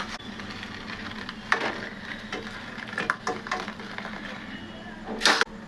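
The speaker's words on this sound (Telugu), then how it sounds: "ఈ అప్పడాలు నేను ఫ్రై చేసి" Papads crackling as they fry in hot oil, a steady low sizzle broken by sharp pops and snaps, with one loud burst near the end.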